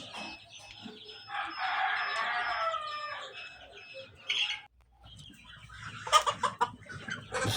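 Fayoumi, Sonali and local deshi chickens kept indoors in a poultry room cluck steadily together, with a crow rising over the flock and busier, sharper calls toward the end.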